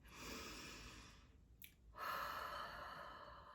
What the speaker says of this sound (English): Let's go ahead and take some deep breaths.